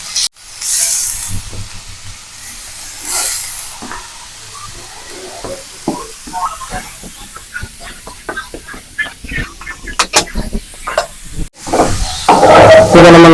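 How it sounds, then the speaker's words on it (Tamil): Grated carrot frying in ghee, a steady close hiss and sizzle with scattered crackles and stirring scrapes, growing busier and louder toward the end. "இதை நம்ம நல்லா நெய்யில இப்படி வறுத்து எடுத்துக்கலாம்."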